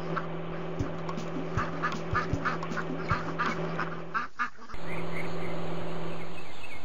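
Cartoon baby ducks quack in a quick series of short calls over a steady musical background, which then gives way to a continuous even sound near the end.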